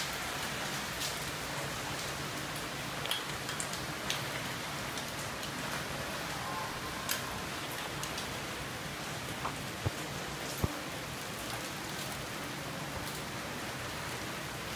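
Heavy rain pours steadily during a big rainstorm in Orlando, Florida, a dense, constant hiss of drops striking surfaces close by, with a few sharper splashes and taps standing out now and then.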